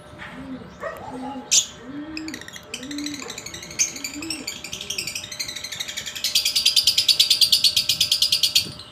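Caged lovebirds call with a mix of low coos, scattered sharp chirps and whistles, then build into a fast, rhythmic burst of high chattering near the end, close and fairly loud.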